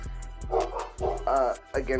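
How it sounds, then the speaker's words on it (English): Several dogs bark and yip in short repeated bursts at close range, their barks overlapping with someone talking over them. "My dogs are barking, by the way."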